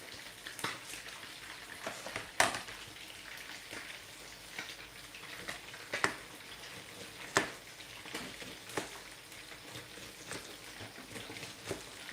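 Parrot fish frying in a pan of hot oil, a continuous crackling sizzle with frequent sharp pops and spits, moderately close and fairly quiet, with no voices over it.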